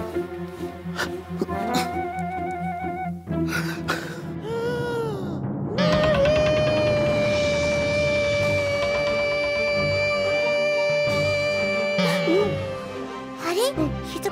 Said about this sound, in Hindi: दोस्त रो रहे हैं?